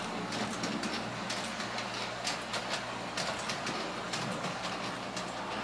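A large-scale model train with a DC motor reverses and backs along its track, giving a steady low hum with faint rail clatter and light clicks throughout, quiet and continuous.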